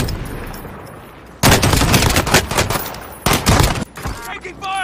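Gunfire in Call of Duty: Modern Warfare, with sudden loud bursts of rapid automatic fire in two main volleys separated by a short lull, close and sharp, after a quiet opening.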